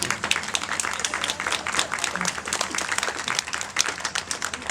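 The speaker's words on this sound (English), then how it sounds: "Can we get a round of applause?" A modest crowd at an overdose awareness event claps after personal stories, a lively uneven patter of individual hands, fairly close and steady throughout.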